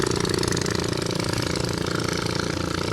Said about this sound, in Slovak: niektoré tie člny majú teda fakt katastrofálny zvuk